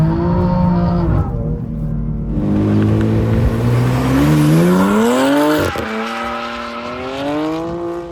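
A car engine revs hard while drifting through a corner in second gear, pitch rising and falling in sweeping glides with tire noise and a sharp transient midway, loud and close with no talking.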